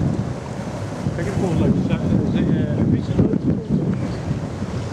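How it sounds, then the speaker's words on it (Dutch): Waves from a passing ship's wake churn and wash near the shore at Willemstad, Curaçao, as a steady rough rumble under heavy wind buffeting, while a person speaks briefly. "daar komen golven van die schip"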